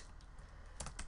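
Typing on a computer keyboard, with a few soft, close keystrokes, a small cluster near the end, over quiet background hiss.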